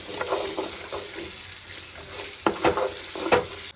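Sabudana is stirred and mixed in a pan, with repeated scraping strokes over a steady sizzle, close and fairly loud, in an uneven rhythm.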